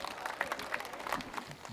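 Applause from an audience at a Hindi comedy poetry gathering, steady and fairly distant, a continuous wash of many hands clapping with a few sharper claps standing out, no talk over it.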